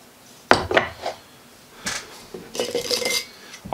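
A metal camping cook pot set, holding a burner and stand inside a 500 ml container, clanks and rattles as it is handled, with a few sharp metallic knocks and scrapes close up and no talking.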